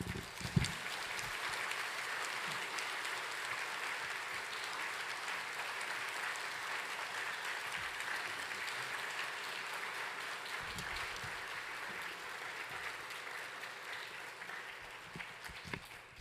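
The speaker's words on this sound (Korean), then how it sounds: "우리 유상수 목사님 나오실 뜨거운 박수로 맞아주시겠습니다." A church congregation claps warmly to welcome a pastor to the pulpit at a special revival meeting, steady continuous applause heard from a distance and holding evenly for a long stretch.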